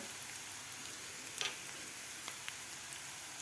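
Turmeric, coriander and red chili powder sautéing in a pan for Maharashtrian methi jhunka, a soft continuous sizzle with faint ticks and a few scraping stirs, close but quiet, no voices.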